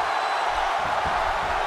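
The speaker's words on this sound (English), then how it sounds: "Listen to this crowd." Video game wrestling crowd in WWE 2K16 during a match, a steady roaring arena murmur with faint cheering, even and sustained throughout.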